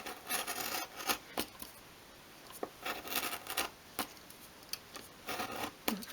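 Light knife strokes scoring a 1.5mm Obeche wood sheet against the grain for a 1/12 scale garden shed, heard as soft scratchy passes in short separate bursts, close and quiet.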